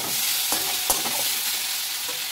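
Spices and masala for a light fish curry fry in a pan as they are stirred, producing a dense close sizzle with a couple of sharp scraping taps.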